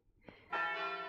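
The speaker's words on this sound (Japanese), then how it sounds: "鐘が鳴った。" A wedding bell rings in the dating game Tokimeki Memorial Girl's Side 4, a single clear chime that swells and sustains with a bright, shimmering ring.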